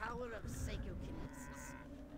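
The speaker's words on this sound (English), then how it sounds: "We had to kill cows, man." Cows moo in the Destroy All Humans! video game, a loud drawn-out lowing call at the start followed by a softer second moo, over steady game background noise.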